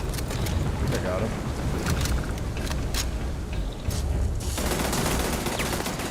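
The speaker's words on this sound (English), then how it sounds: "I'm shooting at Andresia." Gunfire in Starfield, rapid bursts of automatic shots crackling over a dense combat din, with a voice talking over it.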